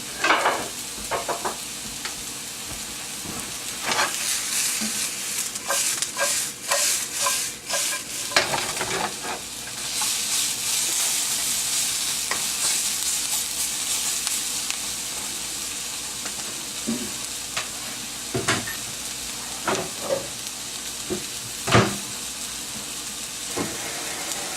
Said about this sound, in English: Alright, about 5-10 minutes of sauteing.